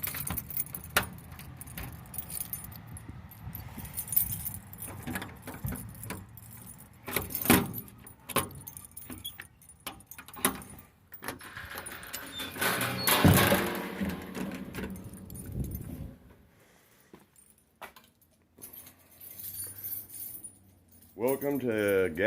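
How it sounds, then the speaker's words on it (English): Keys jingle and clatter while a garage door is unlocked, with scattered handling clicks and a louder metallic rattle partway through, followed by a quieter stretch and some movement sounds. "unlock my garage here."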